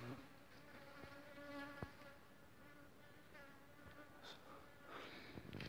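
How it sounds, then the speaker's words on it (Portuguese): Mosquitoes in a forest at a cassava and corn bait site set up for hunting drone around the microphone with a thin, steady whine, faint but close and continuous, broken by a few soft clicks and rustles. "Tá mosquito mesmo aqui, tá pegando pesado"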